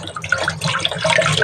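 Sliced long eggplants rinsed under a running tap, a close, loud, continuous splash and trickle of water over the vegetable pieces with no pauses.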